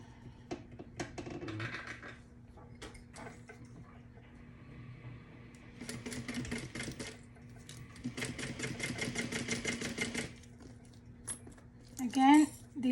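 A sewing machine stitches a tote bag seam at one eighth of an inch in short, quiet bursts of rapid whirring, separated by pauses with a faint background hum.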